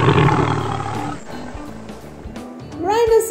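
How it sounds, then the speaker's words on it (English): A lion roars in a children's wild animal activity with toy animals going into water, a deep rumbling roar rising and falling amid bright electronic effects and a voice speaking. "Lion."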